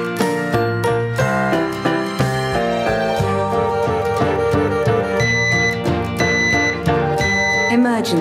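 A Nest smoke alarm sounds electronic chimes and tones, with a synthesized voice speaking warnings between them.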